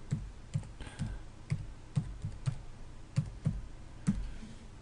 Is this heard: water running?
no